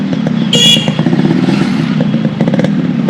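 A restored Yamaha RX 100 two-stroke motorcycle runs loud and close under way, its engine putting out a steady rasping buzz with brief clatter and wind noise.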